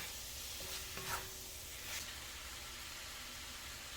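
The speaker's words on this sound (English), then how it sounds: "We'll stir this up again. Make sure those radishes get coated." A radish stir-fry crackles in a pan under steady low sizzling, with soft scrapes from stirring mixed in. No one speaks.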